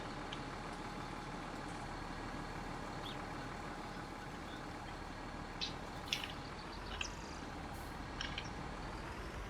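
Massey Ferguson 7726s tractor engine idling in Farming Simulator 19, a steady, even rumble held throughout at moderate level, with a few faint higher clicks near the end.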